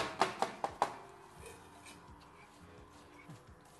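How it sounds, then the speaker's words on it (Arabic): Four quick knife chops on a cutting board as onion is finely minced, sharp close taps in the first second, followed by faint kitchen quiet. "هلا نحن بهالوقت رح بلش انا افرم لك البصل"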